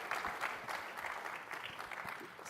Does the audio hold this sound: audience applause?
yes